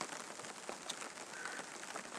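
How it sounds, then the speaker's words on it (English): Steady, dense hiss of heavy rain pouring down, a continuous wash of drops with no pauses and no voices. "You can hear it as well. It's absolutely pouring down with rain again."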